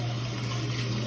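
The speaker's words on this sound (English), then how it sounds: "Rinse the bottle out because I recycle it." Water runs steadily from a tap as a plastic bottle is rinsed out, a soft continuous splash and hiss at close range with no voices.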